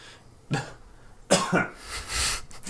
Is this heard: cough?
yes